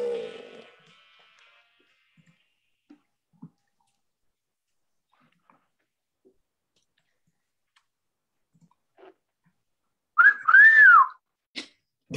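A person whistles a catcall at a live comedy show: a single loud rising-and-falling wolf whistle near the end, after a brief burst of voices at the start and scattered faint clicks in near-silence.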